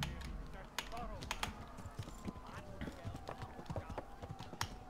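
Horse hooves in Kingdom Come: Deliverance, a soft irregular clip-clop of a ridden horse under faint game ambience, with scattered sharper knocks and some mechanical clicking.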